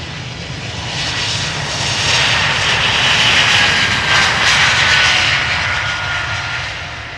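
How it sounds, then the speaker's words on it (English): Loud jet engines of a departing airliner roar close by at Amsterdam Schiphol Airport, a broad whooshing drone that swells to a peak and slowly fades as the aircraft passes. "so you can hear both engines"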